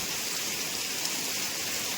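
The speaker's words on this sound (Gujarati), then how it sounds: "વરસાદ જોરદાર એટલે જોરદાર આવે છે" Heavy rain pours down during a downpour with water running along the road, making a dense, steady roaring hiss that is fairly loud and has no voices over it.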